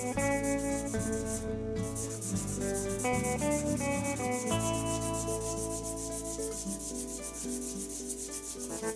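A resin handle blank spins on a lathe while it is sanded with progressively finer grits, giving a steady, continuous rubbing whir with a layered mechanical hum throughout. No one speaks.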